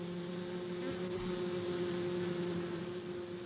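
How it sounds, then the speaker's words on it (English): Worker honeybees fan their wings at the entrance of a hive, a steady, dense buzzing drone that holds evenly throughout at close range with no voices. "Standing at the entrance, the bees fan their wings"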